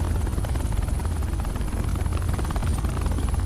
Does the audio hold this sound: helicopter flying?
yes